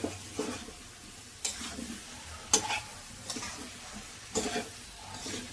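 Cauliflower stirred with spices in a pan, with a low steady sizzle of frying and periodic scraping strokes of a spoon, several separate stirs spaced a second or so apart.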